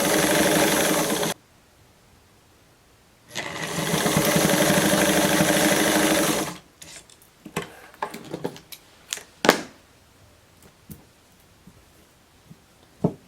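A sewing machine stitching knit fabric runs in two loud sustained bursts, then gives way to quieter clicks and handling noises.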